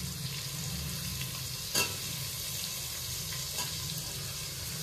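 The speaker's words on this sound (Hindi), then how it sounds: "टमाटर डालेंगे, अच्छे मिक्स कर देंगे।" Tomatoes stirred into South Indian sambar frying in a pan: a soft, continuous sizzle runs throughout, broken by a couple of brief scraping stirs close by.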